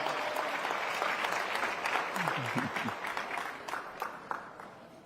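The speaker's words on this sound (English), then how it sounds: "Let's give her a round of applause." An audience at an evening forum reception and dinner applauds Savon Walker, dense clapping that gradually thins and fades, with a brief voice partway through.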